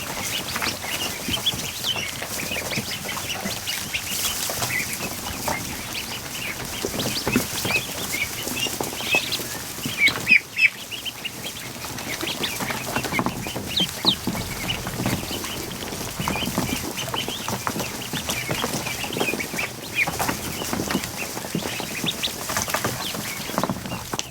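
Around 200 ducks crowd a barn, producing a continuous restless clatter of flapping wings and scuffling with scattered calls, plus a sharp knock midway; no one speaks.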